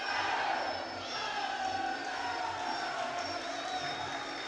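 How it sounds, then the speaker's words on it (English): Kazakh crowd at a Muaythai fight at the IFMA Senior World Championships in Antalya, a steady distant roar of cheering and shouting that holds throughout. "The Kazakh crowd trying to cheer their fighters up."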